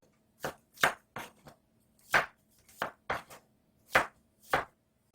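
Knife slicing about five garlic cloves on a cutting board, a run of nine or so crisp, separate chopping taps at an uneven, unhurried pace, close and clear with no talk.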